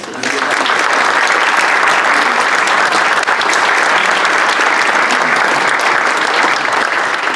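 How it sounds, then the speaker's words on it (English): Loud, sustained applause from a breakfast crowd at a mayor's breakfast in Batavia for the dining team, dense clapping starting abruptly and continuing steadily without talk. "just want to give a round of applause to the dining team here"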